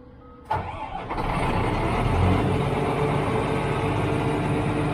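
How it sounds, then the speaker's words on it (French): The large Scania diesel engine of a Kleemann Mobirex MR130 Evo2 mobile impact crusher cranks over and roars to life, then settles into a loud, deep, steady idle close by. "on va démarrer le gros moteur Scania, un très gros moteur de camion."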